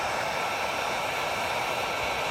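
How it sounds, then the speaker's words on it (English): A heat gun blowing steadily along a seam of Yamaha Blaster ATV plastic, a loud constant rushing hiss with no breaks. "Now I'm going to hit it with the heat gun along this seam"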